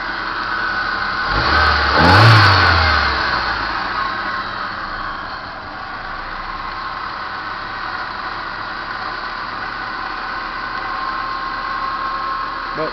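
A Ford Aspire car's engine cranking and catching, rising to a brief rev, then settling into a steady, fairly loud idle that carries on alone at close range.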